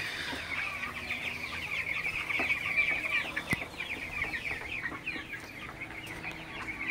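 Broiler chickens cluck continuously in a farm shed, a dense chorus of overlapping calls that stays steady and fairly close throughout, with no talking.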